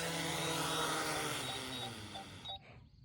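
A farm drone flies over a bean field after scattering seed across a 205-acre field, giving a steady, loud, buzzing propeller whine that fills the air and then cuts off abruptly near the end.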